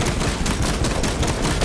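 Rapid, dense gunfire from the Space Marine 2 video game, a loud continuous burst of overlapping shots with no pauses.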